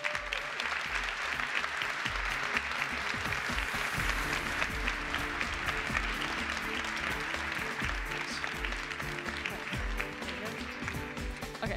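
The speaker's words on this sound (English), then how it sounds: "So please give them another round of applause" A large keynote audience at an OpenStack summit in Berlin applauds community contributors, a dense continuous clapping that holds steady and loud for about twelve seconds, with no talk.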